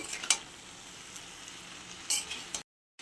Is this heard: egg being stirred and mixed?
yes